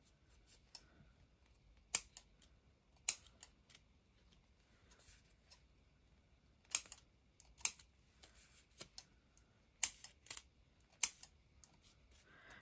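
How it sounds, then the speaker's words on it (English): Scissors snip paper for binder edges in a quiet room, sharp crisp cuts coming in short clusters with pauses between them, close and clear. "I am going to go and snip like that."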